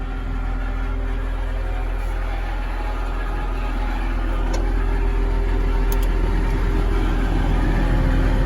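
Loud, steady drone of a Caterpillar IT28G wheel loader engine running with its blower blowing, a constant close roar with rich low rumble that barely changes throughout.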